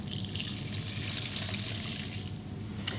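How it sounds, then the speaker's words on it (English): Wet ingredients poured into a dry sunflower and linseed bread mix, a steady soft liquid trickle up close, with a small sharp knock near the end. "we simply pour the wet ingredients into the dry bread mix"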